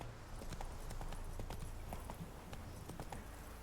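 Hooves clip-clop in a quick, steady trotting rhythm as the horse Roach trots in The Witcher 3, heard faintly over a constant background wash.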